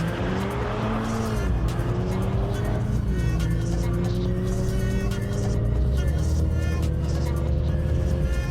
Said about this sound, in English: accidentally jump starts, sending the Joburg Autotech Golf on a solo run